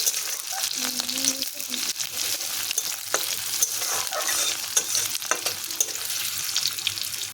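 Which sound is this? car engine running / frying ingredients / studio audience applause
frying ingredients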